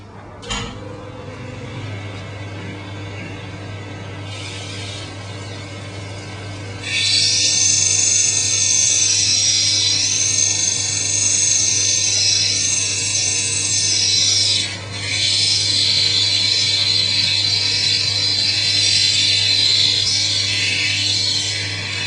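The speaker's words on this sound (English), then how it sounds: "So firstly, we've done the coarse grinder." A coarse grinder runs with a steady motor hum, and a rough agate stone is pressed against the wheel, giving a loud, continuous grinding hiss that dips briefly and then resumes.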